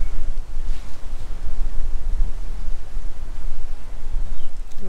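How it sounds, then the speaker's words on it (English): Strong gusty wind by a canal narrowboat buffets the microphone with loud low rumbling that surges and dips throughout, with no voices. "All of a sudden, really windy."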